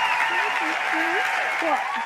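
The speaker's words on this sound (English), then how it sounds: "There's a round of applause playing for you right now." Steady applause rolls on throughout while a voice talks over it.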